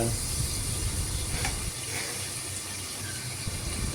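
Green chilies sizzle and crackle steadily in oil in a pan close by, with a low rumble beneath that drops slightly partway through.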